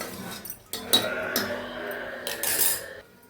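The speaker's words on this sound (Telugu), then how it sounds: "ఇదిగండి ఇట్లా మూత పెట్టేసాను" A metal lid is set onto a pressure cooker holding lentils and water for bottle gourd dal, giving a few sharp clanks and clinks close by over a quiet kitchen background.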